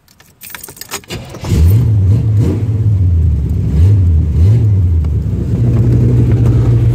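A 1980 Corvette with aftermarket exhaust cranks and fires up, then revs several times in rising and falling bursts before settling into a steady, loud idle close by.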